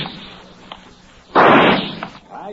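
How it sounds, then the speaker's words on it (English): Pistol shots at an FBI firing range in a radio drama, a few sharp pops and one loud blast in a brief close burst. "at the FBI pistol range, Special Agent Jim Taylor is finishing his practice round"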